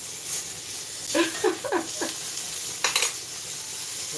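Sausage sizzles in a hot pan with a steady frying hiss, broken by a few louder spattering bursts and stirring scrapes.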